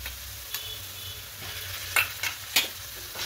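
Onions lightly browned and sizzling in a pan after ginger-garlic paste is added for fish fry, with a steady low frying hiss and a few sharp spoon scrapes and clinks near the end.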